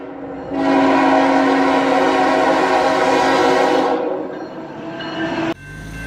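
A mixed freight train rumbles past close by, loud and sustained for about five seconds, with a steady roar of wagons that drops off abruptly near the end.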